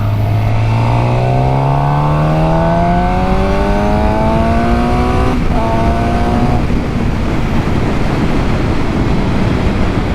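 A 2021 Suzuki GSX-R750 sport motorcycle accelerates hard from a standstill, its engine note climbing steadily through the revs with a brief shift midway, loud and continuous throughout.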